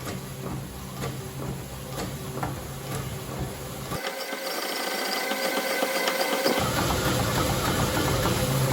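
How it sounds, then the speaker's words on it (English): A honing machine works the cylinder bore of an LS3 engine block with a steady mechanical drone and a faint ratcheting texture, running continuously without pause. "it's staying at the bottom, honing more material, and then completing its stroke"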